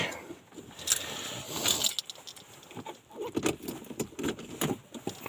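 Small metal car keys for an old Audi jingle and clink in irregular bursts, close by, with scattered handling rustles and no talking, on a frosty morning.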